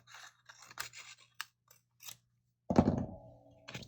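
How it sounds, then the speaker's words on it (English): Scissors snipping through paper while cutting strips for a mini collage craft: a run of short, close, crisp snips, followed by a louder, longer rustling cut near the end. "I'm going to go ahead and start with my first piece of paper, and I'm going to cut it."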